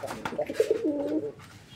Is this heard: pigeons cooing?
yes